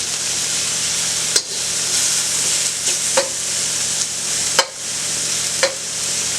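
Shrimp sizzle steadily in a hot pan, a loud continuous frying hiss broken by several sharp scrapes and clinks as a utensil stirs them around.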